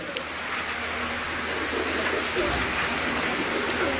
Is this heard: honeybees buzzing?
no